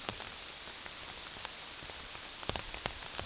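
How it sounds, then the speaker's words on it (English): Steady rain patters on an outdoor umbrella along a river on public land, a dense even hiss broken by a few sharper, louder drop hits near the end. "We just had a nice rainstorm come in on us"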